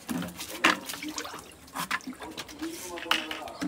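A bull drinking fresh water on Eid ul Adha in a village, with irregular splashing and slurping sounds at close range while someone talks over it.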